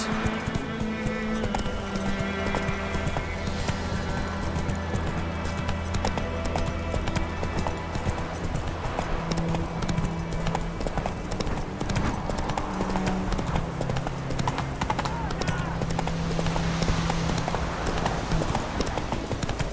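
Roach, Geralt's horse in the video game The Witcher 3, gallops with a rapid, continuous clip-clop of hooves, close and steady throughout, over a low ambient game background.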